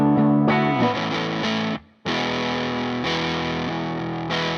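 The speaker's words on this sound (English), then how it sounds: "Then the Big Muff." Music from a DAW pushed through a guitar amp with a Big Muff fuzz pedal sounds thick and heavily distorted, with bright saturated chords, a brief near-silent gap midway, then the loud fuzzy mix resumes.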